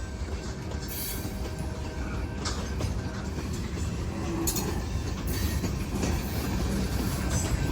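A long CSX freight train rumbles past steadily on a curve, with rolling wheel noise, occasional rhythmic clacks and brief high squeals over a continuous heavy drone.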